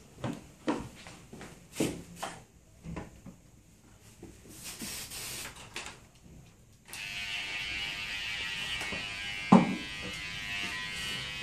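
A hair clipper with freshly oiled blades switches on partway through and runs with a steady electric buzz, after some rubbing and handling sounds; a sharp knock lands during the run.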